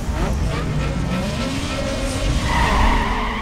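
Race cars in Need for Speed Underground 2 roar with continuous engine drone and tyre skidding, loud and close throughout, with the pitch and intensity swelling toward the end.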